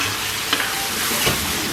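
Star anise, cinnamon bark, bay leaves, angelica root, nutmeg, a pinch of fennel seed and dried chilies fry in hot oil in a wok, a dense crackling sizzle with a couple of scraping stirs, close and steady, with no voices.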